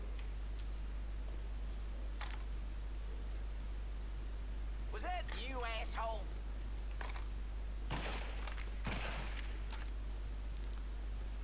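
Sniper gunfire in the game Mafia III comes as a few sharp, isolated cracks over a quiet low hum, with someone speaking briefly in between.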